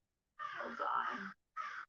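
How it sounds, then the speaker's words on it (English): Crows caw outdoors in the background: a long, harsh run of calls followed by a shorter second burst, moderately faint and heard alone. "I love the sound of the crowns in the back, or the crows"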